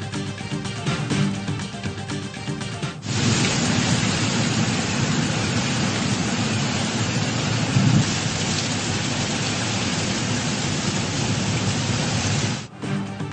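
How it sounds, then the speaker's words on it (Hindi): Torrential rain pours down in Peshawar, a loud, dense, steady roar of water on surfaces that continues without a pause for several seconds, with a low thundery swell partway through and no voices. "पेशावर के मुख्तलिफ इलाकों में मूसलाधार बारिश, गर्मी का जोर टूट गया।"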